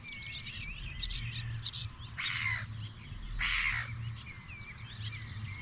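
A tern calls in flight over the Loire river, two loud harsh squawks standing out above softer chirping birds, with a steady low rumble of wind or water beneath.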